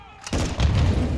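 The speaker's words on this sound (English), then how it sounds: "Take cover. They're launching grenades." Grenade blasts and gunfire in a Call of Duty: Modern Warfare II campaign battle, two heavy, close booms in quick succession with rumbling debris and crackle between them.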